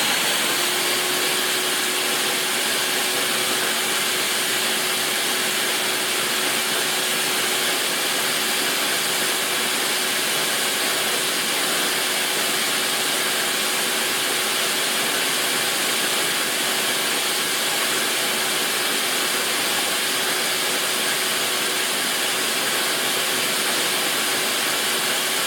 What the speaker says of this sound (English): Then keep on blending.